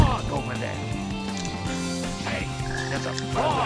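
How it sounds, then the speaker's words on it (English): Frog croaking in the video game Sonic Heroes, a close, fairly loud throaty croak repeating over a busy layer of game music and effects. "There's a frog over there."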